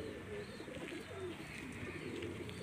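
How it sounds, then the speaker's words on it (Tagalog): Racing pigeons in a loft give soft, continuous low cooing, several birds overlapping in a steady murmur with faint outdoor background noise. "yan mga kalapatids"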